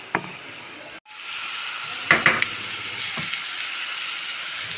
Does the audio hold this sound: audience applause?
no